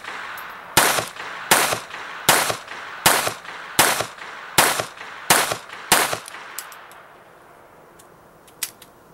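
Rapid string of eight sharp shots from a Sig Mosquito .22 pistol, evenly spaced and loud, each with a short echoing tail, followed by quieter clicks and a faint click near the end.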